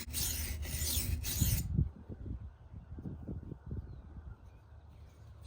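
Blade sharpened on a coarse diamond sharpening stone with lubricating fluid: a few harsh, raspy grinding strokes up close, followed by softer, quicker scraping passes.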